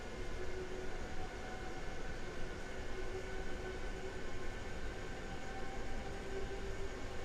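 Train Sim World 3 driving on the Rhein-Ruhr main line S1 route: a steady, even rumble of the running train with faint tonal hums layered through the ride, continuous and moderately quiet with no voices.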